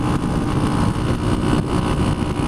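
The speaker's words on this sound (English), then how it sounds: "It is also a carbureted engine, and it's only a single cylinder" A 1976 Honda CB125S motorcycle's carbureted single-cylinder engine runs steadily, a loud, close, even drone with a fast pulsing beat and no voices.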